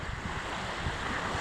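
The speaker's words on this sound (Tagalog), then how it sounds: "So nagsudong ko sa dagat dire nga medyo balod-balod guys." Sea waves at open sea during a fishing trip wash in a continuous broadband roar mixed with wind buffeting the microphone, steady and close throughout without speech.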